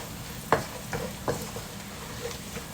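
Turmeric powder frying in hot oil in a pan while cooking a mussel biryani, a soft steady sizzle with a few sharp stirring scrapes.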